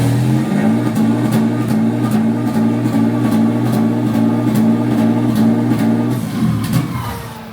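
Big single-turbo VQ37HR engine in a Nissan Patrol drift build revving hard and steadily, loud and close with a sustained droning tone, then dropping off near the end.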